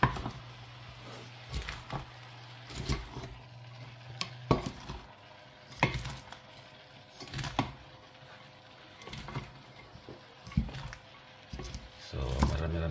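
Vegetables for spring roll filling are stirred in a small pot, with repeated scraping and clattering strokes spread through the clip and a faint sizzle beneath. A voice speaks over parts of it.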